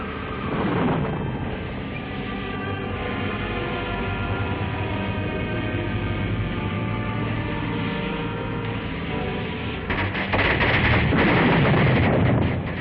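A loud, sustained mechanical roar with rumbling bursts serves as the sound effect of a tower taking off in a 1936 film serial, swelling near the end.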